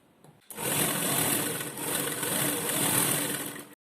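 A sewing machine stitches lining fabric onto a jacket in one loud, close, continuous whirring run of about three seconds that starts abruptly and stops abruptly.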